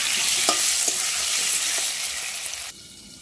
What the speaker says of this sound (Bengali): তো আলুগুলো লাল করে ভাজা করে নেব।